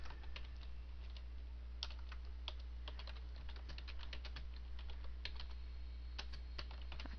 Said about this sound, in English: can't think and type at the same time